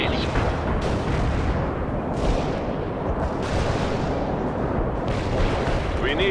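Smoke grenades launching in the war strategy game World in Conflict, heard as a dense, loud rumble of booming artillery-like blasts and crackling fire layered over continuous battle noise.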